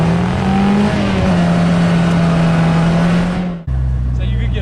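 A stick-shift car's engine drones loudly and steadily as it pulls forward. Near the end the revs drop sharply during a gear change, then the lower engine note picks up again.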